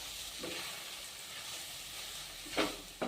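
Onion and fenugreek leaves fry in a pan for chutney, with a soft, steady sizzle and a few brief stirring scrapes near the end.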